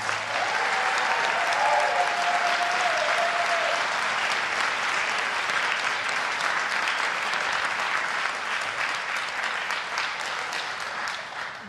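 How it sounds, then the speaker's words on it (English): A large audience at a high school chorus spring concert applauds steadily and loudly, the clapping sustained throughout with a faint whistle early on, tapering only slightly toward the end. "How about a nice, nice round of applause for all the souls tonight?"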